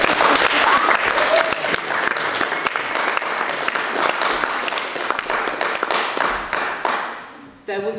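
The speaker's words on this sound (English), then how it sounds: "Please give a big round of applause." An audience at a storytelling night claps loudly and steadily for several seconds, then the clapping tapers off near the end.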